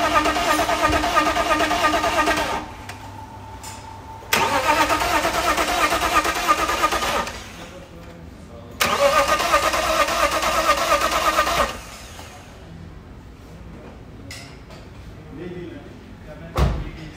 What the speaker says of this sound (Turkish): Şimdi bir boşa marş deniyoruz.